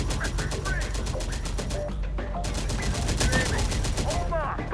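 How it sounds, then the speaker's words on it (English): Rapid gunfire rattles through a battle in the video game Terminator: Dark Fate - Defiance, with dense bursts of shots broken by a short lull, loud and close, alongside radio-style voice chatter. "We are taking fire."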